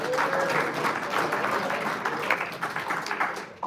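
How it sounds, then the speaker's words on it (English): An audience at an evening panel event for a building and realty institute gives a big round of applause for the panelists and moderator, a dense, sustained wash of many hands clapping that tapers off at the end. "Let's have one more big round of applause for our panel tonight"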